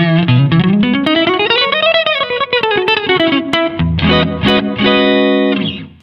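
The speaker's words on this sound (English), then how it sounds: "Almost like a slapback 50s kind of thing, pretty cool." Electric guitar on the neck pickup played through a Fender Marine Layer reverb pedal with long pre-delay, giving a 1950s slapback echo; a sustained bending lead phrase rings out loud and alone, then settles into held chords that fade at the end.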